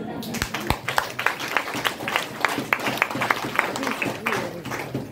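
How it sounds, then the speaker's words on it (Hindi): An audience at a motivational seminar claps in dense, fairly steady applause. Voices mingle through the clapping. "ताली मार के लिए।"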